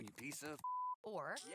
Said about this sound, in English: that's the sound of selling on Shopify